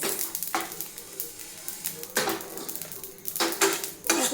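Metal spoon scraping and clattering against a pan in repeated strokes as spices are briefly fried for raw mango pickle, with a soft frying hiss underneath, close by.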